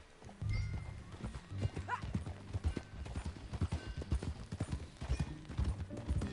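Horse hooves clip-clop at a steady riding pace in the Red Dead video game, close and rhythmic, with a brief whinny early on.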